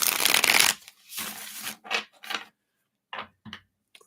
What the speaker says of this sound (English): Let's give it one more shuffle here.